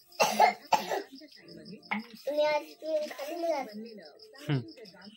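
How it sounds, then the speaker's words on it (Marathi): A child coughs a few times close by, sharp bursts mixed with bits of childish talk and throat noises. "खोकला झाला ना तुला?"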